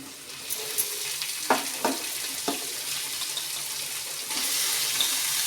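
Steady frying sizzle of onion with a few sharp clinks and taps, then the sizzle swells louder as chopped radish greens hit the hot pan.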